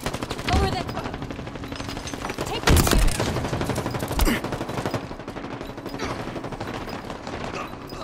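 Rapid bursts of gunfire in Halo Infinite, a bot bootcamp match on the Streets map, with several louder shots standing out over continuous firing and game effects.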